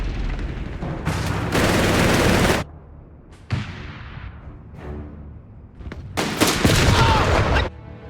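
Machine gun fire in the World War II strategy game Company of Heroes 3, heard as several loud sustained bursts of rapid gunfire separated by quieter battle rumble and distant shots.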